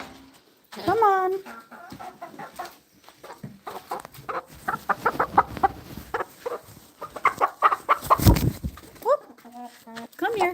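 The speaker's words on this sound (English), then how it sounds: "Come on, chicken." Chickens cluck repeatedly on a farm, with close, irregular bursts of clucking mixed in with a person talking and calling to the birds.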